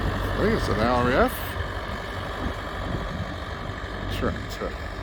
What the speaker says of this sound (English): Some of the crew are getting some of the old trucks out.